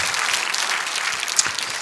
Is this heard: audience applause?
yes